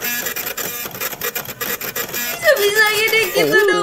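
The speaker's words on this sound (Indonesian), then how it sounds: "Oh, suara printer." A printer runs with a fast mechanical whir and rising tones while a person speaks over it nearby.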